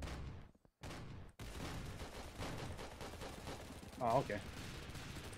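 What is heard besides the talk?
gunfire in a video game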